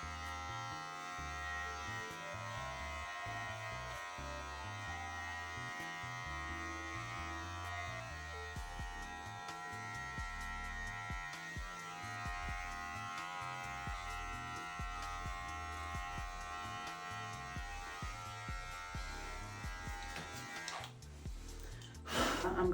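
A buzzing electric hair clipper shaves a head, its motor droning steadily throughout with the pitch and texture shifting as it passes over hair, close and continuous, ending in a brief louder clatter.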